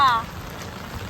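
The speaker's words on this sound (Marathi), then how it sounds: "कसा आहे पाऊस बघा" Steady hiss of heavy rain pouring down, after a brief voice at the very start.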